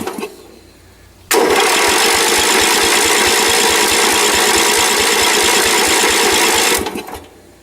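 A riding mower's engine cranks steadily for about five seconds with a rapid, rhythmic chugging from the starter, foot on the clutch and everything disengaged, nearly catching before cutting off; loud and close, with no talk.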